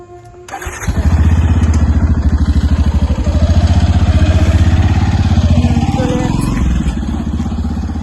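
A motorcycle engine starts with a clatter, then revs and idles loudly nearby with a steady pulsing throb before pulling away, while a person talks over it.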